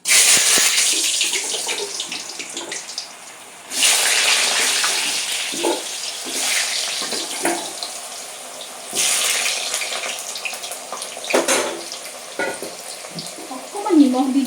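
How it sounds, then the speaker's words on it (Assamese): Potato pieces fry in hot mustard oil in a home kitchen, a loud steady sizzle in long hissing bursts that rise and fade, with brief stirring clatter between them. "এতিয়া মই তেলটো ফাৰ্ষ্ট মই আলুখিনি ফ্ৰাই কৰি লওঁ।"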